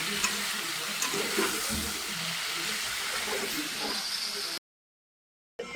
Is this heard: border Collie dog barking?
no